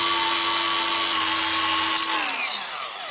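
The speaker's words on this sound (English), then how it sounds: "I'm gonna go ahead and grind the washers flat a little bit so they'll fit." A grinder grinds metal washers flat while fitting tubular control arms and coil-over shocks to a 1955 Chevy in a garage, producing a loud, steady high whine that drops in pitch as it spins down near the end.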